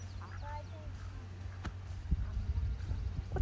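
Ducks quack several times around a kayak on open water, with faint scattered calls early and louder, nearer bursts toward the end over a steady low hum of wind and water.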